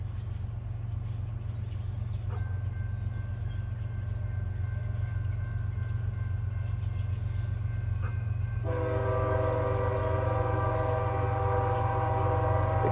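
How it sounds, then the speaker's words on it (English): CSX freight train of auto racks heading south on the Henderson Subdivision at Morton's Gap, Kentucky: a constant low rumble of rolling cars, a brief horn note, then a long, loud multi-tone horn blast. "we've got a M517 just coming off the cutoff here at Morton's Gap, Kentucky, as it heads south on the CSX Henderson Subdivision."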